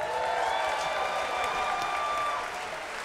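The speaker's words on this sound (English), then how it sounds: "Give yourselves a round of applause." Steady, dense applause from a large concert audience at a live big band set at MAGFest fills the whole stretch, loud and continuous, easing slightly toward the end.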